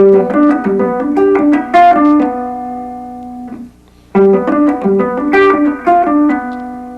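An electric guitar plays rising and falling arpeggiated note patterns including the seventh, clear and loud, with a brief pause before the pattern repeats.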